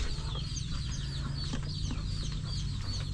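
Chickens and small chicks cluck and peep steadily on a farm, with overlapping chirps, occasional louder clucks and a constant low hum underneath.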